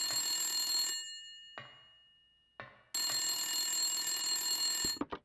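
Loud electronic telephone bell from a horror video game rings in long bursts separated by short silences, ending in a few quick clipped rings.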